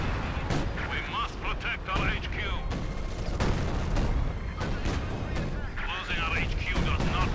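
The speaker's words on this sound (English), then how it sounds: "Once more, a Wehrmacht artillery battery has been ordered in." A Wehrmacht artillery battery barrage in Company of Heroes 2: continuous heavy booms and crackling blasts pound one after another at close range, with a commentator talking over the bombardment.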